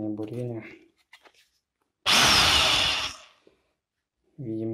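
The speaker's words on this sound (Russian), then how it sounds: "Так, сверление, бурение." An Elti rotary hammer drill runs in drilling mode for about a second, a loud, close, rough whirring burst. Speech comes before and after it, with silent gaps in between.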